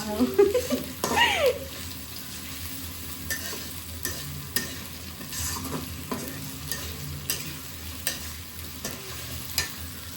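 Tomatoes fry with salt in a pan on a home stove, giving a steady soft sizzle. A spoon stirs and scrapes at intervals, and a voice is briefly heard near the start.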